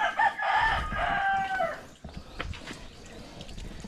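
Chickens at a hillside farmyard in Cebu, a rooster crowing loudly and close in a drawn-out call, followed by scattered clucks and shuffling noises.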